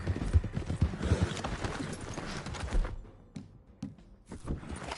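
Quick, rhythmic hoofbeats of a galloping horse in Red Dead Redemption 2 clatter loudly, then thin out into scattered thumps and brief gaps toward the end.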